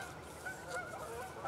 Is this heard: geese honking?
yes